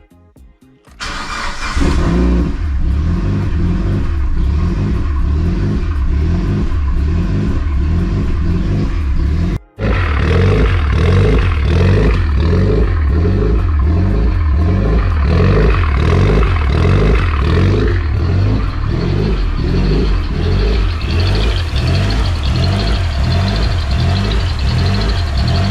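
Mitsubishi Lancer Evo 8 starting up after its battery was relocated to the boot, catching quickly into a loud, close, rumbling idle with rhythmic pulsing, a brief cut near the middle, then steady running.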